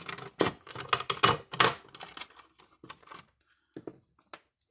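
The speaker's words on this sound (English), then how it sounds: "I'm going to break this plastic thing" Pliers crack and snap a plastic part of an old weed-burner electric fencer, a quick burst of sharp clicks and crunches close up, then a few scattered fainter clicks after a pause.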